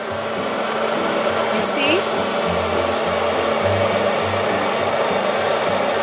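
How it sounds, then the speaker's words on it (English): A hot air popcorn maker runs with a steady, even whirring roar from start to finish, while a person talks over it. "But we're happy that we have a popcorn maker. Turn it on."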